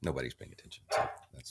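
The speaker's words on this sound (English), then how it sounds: "That's my dog. He's freaking out." A dog barks sharply a few times in the background while people keep talking over it.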